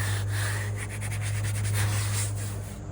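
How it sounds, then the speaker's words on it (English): An electric sander grinds the rough, rusty, cratered hood of a 1978 Chevy El Camino, making a steady, close, abrasive rasp with a constant motor hum beneath it and no talking. "Some mystery grit was on it when I grabbed the sander"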